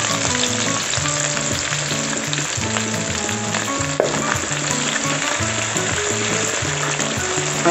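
Chopped chili and oyster sauce stirred in a frying pan for a spicy shrimp spaghetti, giving steady loud sizzling with a sharp scrape near the middle and no talking.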